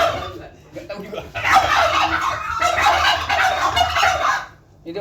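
A bronze turkey gobbles in a loud, rapid, warbling burst lasting a few seconds, close by, with softer background sounds before and after.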